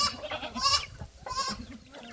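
Goats on a farm bleat close by, two or three overlapping calls in quick succession over soft background noise.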